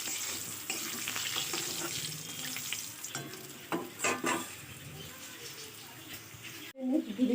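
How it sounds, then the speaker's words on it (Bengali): Fried potatoes and bay leaves stirred in hot oil sizzle steadily, with close scraping strokes of a spatula and a sharper clatter at the end; a voice is briefly heard. "এবার নাড়িয়ে নেব।"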